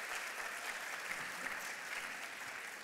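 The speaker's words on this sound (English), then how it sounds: "Please give her another round of applause." Audience applause at an outdoor garden party for a law and poverty nonprofit, a steady, even wash of many hands clapping from a moderately distant crowd, sustained throughout without speech.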